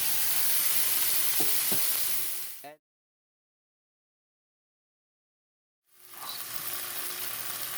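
Shrimp going into a hot pan of Guyanese bunjal curry, giving a bright, steady sizzle with a couple of soft stirring knocks, then a break into silence before the sizzle comes back just as loud.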